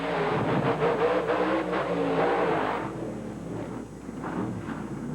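The Bigfoot monster truck's engine roars loudly from inside the cab during a jump stunt at a Las Vegas event in 1999, with a sustained heavy revving that eases and wavers toward the end.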